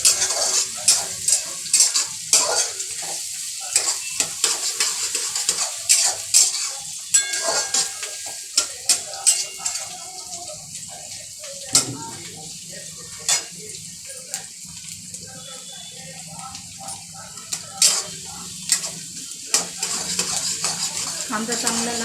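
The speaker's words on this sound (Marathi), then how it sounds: "कांदा पण चांगला परतून घ्यायचा आहे।" Chopped onion sautéing in a pan, with a steady sizzle and frequent scraping, clinking stirs of a metal spoon against the pan throughout, close and fairly loud, with no voices.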